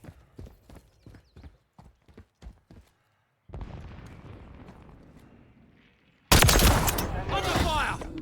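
Gunfire in the video game Modern Warfare 3 on a team deathmatch Quarry map: a string of sharp single shots, then a hissing rumble, then a sudden loud, sustained burst of firing, with no speech.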